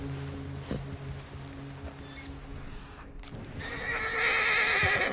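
A horse in a video game whinnies loudly, then hooves clip-clop in a steady galloping rhythm with rustling underneath, the sound growing brighter and busier toward the end.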